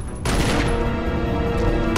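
Sustained loud gunfire in Resident Evil against a hard-hitting monster, a dense unbroken roar of shots and booms filling the whole stretch with no talk.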